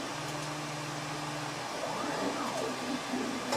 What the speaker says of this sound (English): I'll be printing it off on one of these Ender 3s.